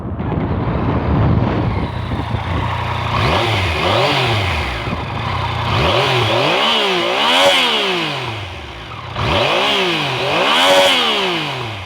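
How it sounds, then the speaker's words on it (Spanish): A Yamaha FZ-09 / MT-09 motorcycle engine with its stock exhaust idles then revs up and down repeatedly, each throttle blip rising and falling in pitch, loud and close with no talking. "ahora vamos a ver cómo se escucha esta hermosa moto"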